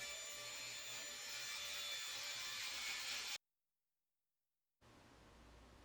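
A table saw rips 7/8 inch mahogany lengthwise into strips for a guitar blank, giving a steady, loud blade whine with wood hiss that runs about three seconds, cuts out abruptly to silence, then resumes.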